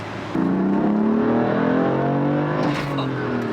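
BMW M4 with a six-speed manual pulls hard through the gears, its engine note climbing in rising harmonics, dipping briefly at a shift, then rising again; loud, steady and close, heard from inside the car.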